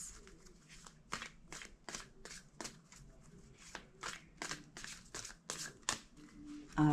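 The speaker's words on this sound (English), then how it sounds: "Two more shuffles." A tarot card deck shuffled by hand in a quiet room, a rapid run of crisp riffling bursts with brief pauses between, close and moderately loud.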